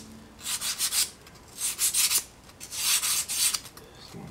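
Sandpaper rubbing rhythmically over a small wooden miniature church bench made for tabletop gaming, a close raspy scratch in three bursts of quick back-and-forth strokes, with no voices.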